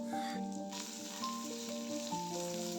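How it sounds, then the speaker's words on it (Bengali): Whole cumin, mustard seeds and a dried chilli crackle in hot oil in a pan, with chopped onion and peanuts frying alongside, a steady broadband sizzle running throughout over faint background tones. "প্যানে একটু 1 টিস্পুন তেল দিয়ে তাতে গোটা জিরে, সর্ষে আর একটা গোটা শুকনো লঙ্কা ফোড়ন দিয়ে দিচ্ছি"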